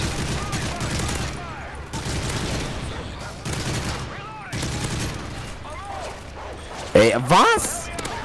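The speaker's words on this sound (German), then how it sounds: "Schutz unter schwerem Beschuss" Heavy gunfire in the video game Modern Warfare 3 comes in repeated bursts, with a louder burst near the end, mixed with game sounds and some chatter.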